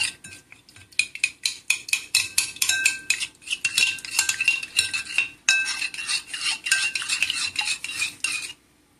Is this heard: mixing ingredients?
yes